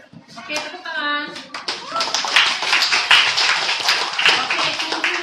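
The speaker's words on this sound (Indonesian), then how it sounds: "tepuk tangan" A group of children claps hands in a classroom, with scattered then overlapping claps following a short spoken prompt, close and lively.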